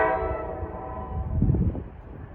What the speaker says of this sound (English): Approaching is 5179. The last train out of Penn Station, New York, we'll see here.